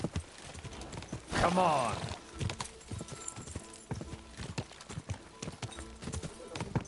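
Horse hooves pound in a rhythmic clip-clop during a horse race in a video game, close and steady, with a brief whinny and a voice talking over them.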